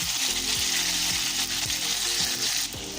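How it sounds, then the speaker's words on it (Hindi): Chicken pieces fry in a pan for an arvi chicken masala, giving a steady, close sizzle with occasional low stirring knocks and no voices. "चिकन को हमने बहुत ही अच्छा फ्राई कर लेना है"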